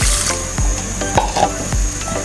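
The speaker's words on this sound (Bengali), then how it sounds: "আমি এখন ভেজে নিচ্ছি এই যে মুগ ডাল" Mung dal frying in a pan for a muri ghonto dish, a steady close sizzle with some clinks of stirring throughout and no talk.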